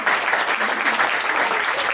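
Loud, dense applause from a crowd at a ceremony, continuous clapping filling the whole moment without pause.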